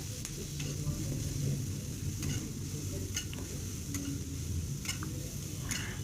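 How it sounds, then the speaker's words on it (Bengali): Bean paste (sim bata) seasoned with salt and a little turmeric frying in a pan, a steady dense sizzle that runs throughout, with occasional sharp ticks and spatula scrapes cutting through. "এটাকে খুব ভালো করে আমি ভেজে নেব।"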